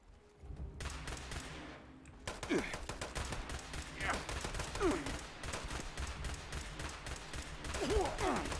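Rapid bursts of gunfire in Fallout 76 hammer at an armored deathclaw, dense repeated shots filling most of the stretch after a brief lull, with a player's voice faintly underneath.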